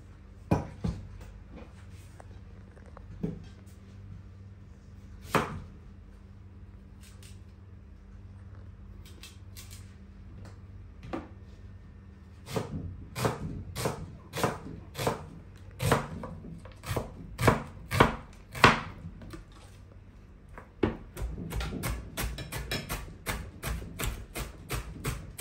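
Knife chopping onion, ginger and garlic on a board for an anchovy fish thoran, with sharp rhythmic taps that start sparse, then come in steady runs and a fast burst near the end, close and fairly loud with no talking.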